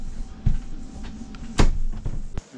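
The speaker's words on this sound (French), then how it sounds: "Une vérification de la fermeture des portes." Cabin doors on a sailboat being closed during a professional inspection: a few wooden knocks and one louder thud, close by, with quiet rustling between them.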